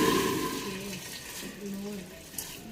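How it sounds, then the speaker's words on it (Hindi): A loud hissing, sizzling rush as water is poured into a hot pressure cooker, fading gradually over a couple of seconds. "कुकर गर्म हो चुका था इसलिए काफ़ी आवाज़ आई है पानी डालने से।"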